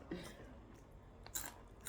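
Crunchy spicy koro beans bitten and chewed close up, with a few sharp crunches spaced across two seconds over a low background.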